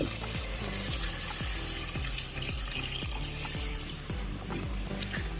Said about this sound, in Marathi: यात आपण रस्स्यासाठी पाणी टाकून देऊ